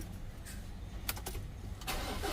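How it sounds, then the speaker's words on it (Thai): A Ford Ranger T6 pickup with its EGR system removed is cranked and started, then revved in a couple of short bursts, the engine sounding faint and somewhat distant. "สตาร์ทใหม่รอบที่3นะฮะ เบิ้ลเครื่องเร่งเครื่องดูนะฮะ"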